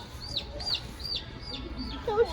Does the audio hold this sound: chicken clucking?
yes